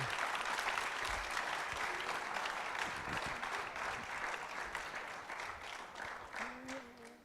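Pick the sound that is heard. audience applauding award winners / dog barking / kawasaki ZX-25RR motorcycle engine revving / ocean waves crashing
audience applauding award winners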